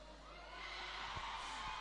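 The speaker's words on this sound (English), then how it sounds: "the crowd just went mad in here because Darth Vader was out the pack first" A packed arena crowd at a men's European Cup roller derby bout in Glasgow roars and whoops in a sustained, broad wash of cheering that swells slightly toward the end.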